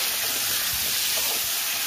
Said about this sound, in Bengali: এবার ভালো করে ওলটা আমি ভাজবো।